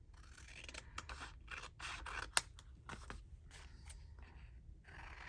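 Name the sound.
scissors trimming paper edges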